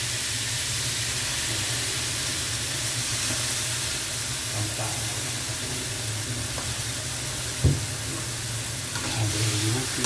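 Stir-frying in a pan with a splash of soy sauce added, producing a loud, continuous sizzle and hiss throughout. A sharp knock of the utensil comes near the end.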